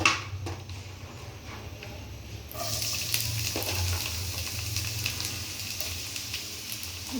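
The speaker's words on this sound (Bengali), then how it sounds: "এখন এই যে তেলটা দিয়ে দিলাম এখন পেঁয়াজ দিয়ে দিব" Onion frying in hot mustard oil in a home kitchen pan, a steady close sizzle that grows louder and busier midway, with faint clinks and low background rumble.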